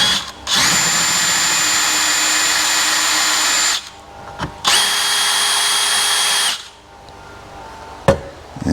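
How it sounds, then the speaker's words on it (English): A power drill bores a hole through the tray of a 2025 Toyota Tacoma in two loud, steady whining bursts, the first about three seconds long and the second about two, separated by a short pause and followed by a single faint tap. "Alright, I've got the hole drilled through"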